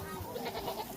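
A goat on a farm bleats in a brief, wavering cry under a faint murmur of voices, quiet and somewhat distant.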